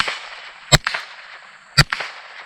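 Two sharp shots from a Ruger 10/22 rifle fired at a popper target, each crack followed by a short ringing report, about a second apart and loud against a quiet background.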